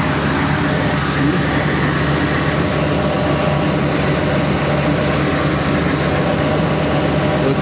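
Car engine idling steadily after an oil change, a loud, constant low rumble with a broad hiss close by, unbroken for the whole stretch.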